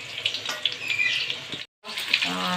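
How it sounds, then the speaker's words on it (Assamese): Chicken pakora frying in oil in a wok over a high flame gives a steady, close, bright sizzle that cuts out for a moment near the end, then resumes with faint bubbling. "ছেকেণ্ডবাৰ আকৌ এইখিনি মাংস ভাজি ল'ম।"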